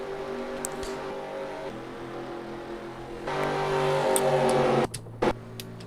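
Race cars and a pace car circle the track at Phoenix, a continuous engine drone that shifts pitch as vehicles pass and swells louder toward the end, with no talk over it.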